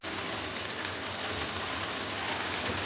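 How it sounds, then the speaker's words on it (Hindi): Green beans, 250 grams, added to potatoes frying in spiced oil in a pan, giving a dense, steady, close sizzle that holds evenly throughout with no voice over it. "जब इसमें आलू भून जाए तो इसमें 250 ग्राम फलियाँ निकली हुई वो इसमें शामिल कर दें"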